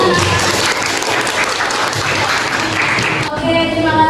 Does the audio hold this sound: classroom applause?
yes